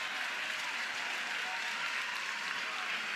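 Steady applause during a college softball game between Oklahoma and California, a dense wash of clapping that holds evenly throughout.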